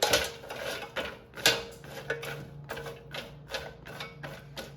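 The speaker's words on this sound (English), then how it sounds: "toss them so I coat it with oil and seasoning" French green beans tossed with oil, salt, pepper and seasoning for the air fryer, giving close, irregular clinks and rattles of a bowl or utensil with soft rustling, no talking.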